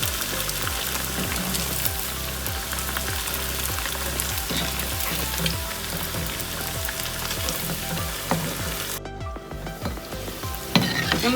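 Continuous close sizzle and crackle of noodle pakora dough balls frying in hot oil, with occasional stirring clinks and a brief clatter near the end.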